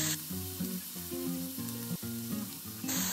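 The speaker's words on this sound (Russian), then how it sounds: "и жарим, помешивая 4-5 минут" Chopped onion fries in sunflower oil in a pan on medium heat, a steady soft sizzle running beneath louder melodic background music.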